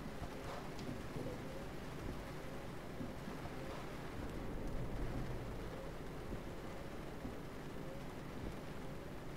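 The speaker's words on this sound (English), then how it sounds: "The rain's that sound effect." Game rain on a truck in Euro Truck Simulator 2 makes a dense, constant hiss over a low engine rumble, loud and unbroken throughout.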